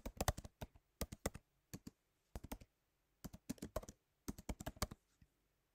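Someone types a first and last name and an email address on a computer keyboard, sharp key clicks coming in quick bursts separated by short pauses, close and clear with no talking.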